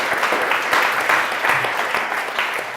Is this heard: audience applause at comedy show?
yes